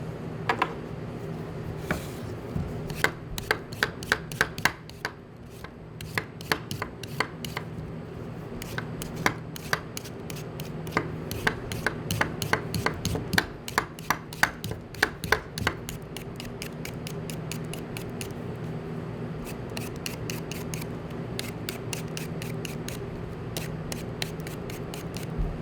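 Repeated quick scraping strokes of a peeler against potatoes, a brisk uneven rhythm of close, crisp rasps continuing steadily with no voices.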